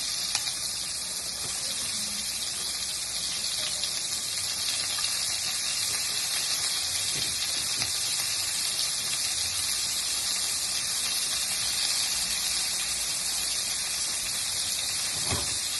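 Vegetables added to a hot pot with oil, just emptied of shrimp, give off a steady, even sizzling hiss that carries on without a break from start to finish.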